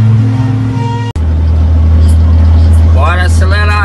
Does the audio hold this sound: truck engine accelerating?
yes